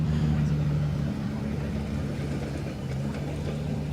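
Race car engine at the Simola Hillclimb, a steady droning hum held for several seconds with a wind-like rushing noise over it, moderately loud.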